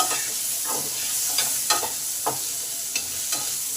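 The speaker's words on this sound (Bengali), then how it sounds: "আলুটাকে আগে ভালো করে ভেজে নেব, তবে তরকারিটা খেতে টেস্টি হবে।" Potato pieces fry in oil with salt and turmeric, a constant close sizzle with intermittent stirring scrapes every half second or so.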